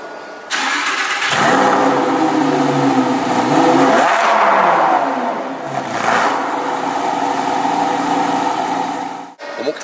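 Lamborghini Huracán STO engine firing up with a sharp bark, then settling into a loud, raspy idle with a couple of throttle blips swelling the roar, recorded close by.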